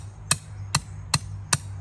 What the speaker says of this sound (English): We'll drive that in to hold it up.